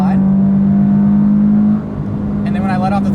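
Toyota 86 in sport mode holding a sustained, loud engine drone while revving toward redline, then dropping off sharply as the throttle is released, followed by a voice speaking.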